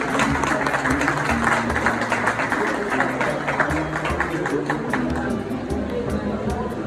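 Applause and crowd chatter at the official launch ceremony of a Senegalese cultural platform, steady clapping mixed with voices and a low background hum throughout.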